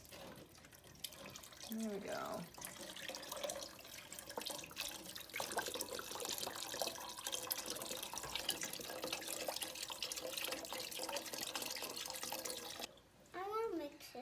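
Vegetable broth poured into a pot for homemade tomato soup makes a steady liquid splashing that runs on for several seconds, with people talking quietly around it.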